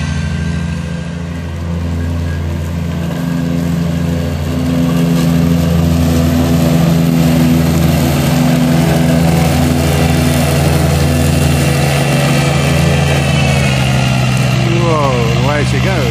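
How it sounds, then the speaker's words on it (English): A motor runs steadily with a low grunting drone and a strong, even hum throughout, loud and close, with no talking over it. "The grunt of that motor."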